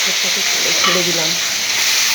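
Banana stem dropped into hot oil for a Bengali thor chechki, a loud steady sizzle and crackle of frying that fills the whole moment, with no voices over it.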